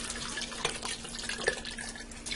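Beef broth from a 32-ounce carton splashes into a pot over high heat for beef stew, a steady liquid pour with a few louder glugs, close by and without talk.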